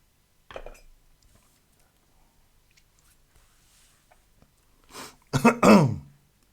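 Someone with a scratchy throat gives a short throat clear, then after a quiet stretch lets out a loud burst of coughing and throat clearing close to the microphone.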